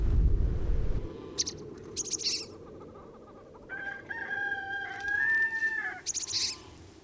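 Chickens in a henhouse on a snowy mountain farm in winter give a drawn-out crowing call in the middle, framed by short clucks and bursts, over a low rumbling background at the start.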